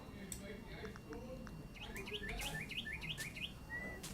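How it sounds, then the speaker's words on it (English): Bright, repeated bird chirps ring out in the cozy farming video game Luma Island, a quick run of short tweets rising over soft ambient game background noise in the second half. "Listen to the bird sound in this game."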